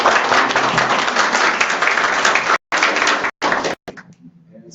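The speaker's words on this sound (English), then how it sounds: "I want everybody to give him a round of applause." Audience applause for a guest at a gathering: close, dense clapping that breaks off abruptly in short gaps and trails into scattered claps and faint voices at the end.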